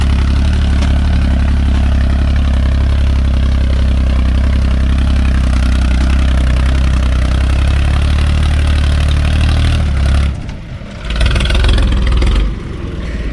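A vintage Ford 3600 tractor with a diesel engine runs close by, idling with a loud, steady, low rumble that dips briefly near the end before resuming.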